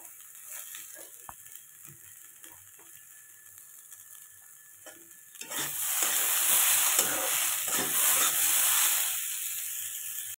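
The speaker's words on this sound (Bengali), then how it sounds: "আর উচ্ছেটাও একটু নেড়ে দেবো। এর মধ্যে এখন দিয়ে দেবো আমি পেঁয়াজ" Sliced bitter gourd and onion frying in oil in a pan, stirred: quiet at first, then a loud, close, steady sizzling hiss takes over about halfway through and continues to the end.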